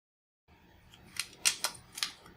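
Commodore 64 keycaps being pressed back onto the keyboard, a few sharp plastic clicks and snaps, close and clear, spaced irregularly after a short quiet start.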